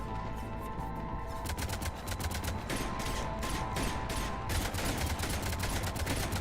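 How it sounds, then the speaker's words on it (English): Video game cannons fire in a fast, continuous barrage of rapid repeating blasts over a mechanical drone, dense and unbroken for several seconds. "I should probably turn this cannon on."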